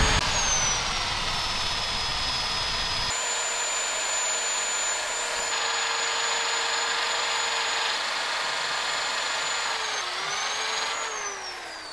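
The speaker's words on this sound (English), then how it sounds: "I'm gonna use my 80 grit gouge here and an 80 grit disc on this to lower the surface of that nut" Power sanding with an 80 grit disc on a nut embedded in a turned wood bowl, a loud continuous high whine and rough abrasive hiss, changing pitch as the tool shifts, close and without talk.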